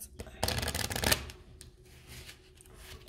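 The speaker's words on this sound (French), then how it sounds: "Je brasse encore 2 fois les cartes." A deck of tarot-style reading cards is riffled in one loud, rapid flutter lasting under a second, followed by softer handling taps and slides of the cards, close to the listener.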